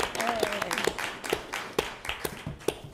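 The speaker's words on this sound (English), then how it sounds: "we can clap" Applause at a town select board meeting in Swampscott, a short burst of clapping from a small group in a meeting room, with sharp irregular claps under ongoing chatter.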